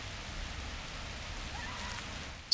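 Steady rain patters softly from the Dead Frontier 2 video game weather effect, a faint continuous hiss that ends in a sudden louder burst.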